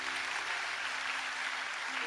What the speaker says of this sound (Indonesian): tepuk tanganmu yang paling meriah.